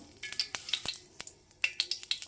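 Mustard seeds and curry leaves crackling in two spoons of hot oil on a stove: sharp, irregular pops and spits, close and moderately loud, arriving in quick uneven bursts.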